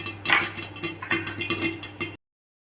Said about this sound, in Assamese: সৰিয়হখিনি যিহেতু বহুত ফুটে, তাত মই একদম ঢাকনা লগাই দিছোঁ।